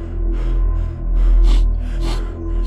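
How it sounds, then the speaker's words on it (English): Heavy, rasping mouth breathing in a horror game, with loud gasping inhales and exhales over a low droning background and no talk. "I'm convinced it's my mouth breathing that leads me to keep getting caught."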